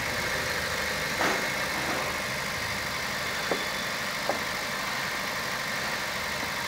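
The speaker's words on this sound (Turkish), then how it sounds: "Aracımıza son olarak marş yaptık." A car engine idling just after being started following a wheel refit, a faint, steady low hum with a few light clicks or taps, no talk.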